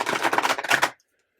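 Tarot cards being shuffled by hand: a dense run of rapid riffling card flutters, close and fairly loud, lasting under a second before breaking off into silence.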